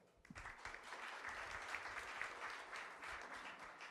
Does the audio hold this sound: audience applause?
yes